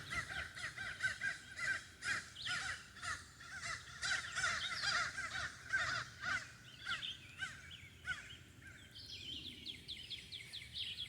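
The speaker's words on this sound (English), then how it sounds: "And our birds making lots of noise." Crows caw repeatedly in a noisy chorus near a river, overlapping calls continuing steadily, with a different rhythmic chattering bird call taking over near the end.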